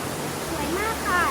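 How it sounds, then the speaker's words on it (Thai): The second tier of Huai Yang waterfall in Prachuap Khiri Khan, Thailand, sends out a steady, loud rush of falling water, close by, while someone talks over it. "อันนี้เป็นน้ำตกชั้นสองนะคะน้ำตกท่ายางชั้นที่สองค่ะ"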